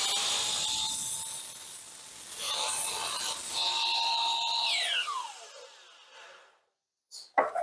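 A saw grinds and rasps through a wooden target board, whining on and off before winding down into silence, followed by a couple of quick knocks near the end.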